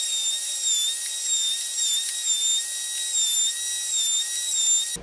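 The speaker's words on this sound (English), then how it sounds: "Got a small round over bit in here, and I'm gonna go over the edges on the walnut" Router with a small round-over bit rounding the edges of walnut for a shot glass tray: a steady, high-pitched motor whine with slight wavering as it cuts, continuous and close, cutting off abruptly at the end.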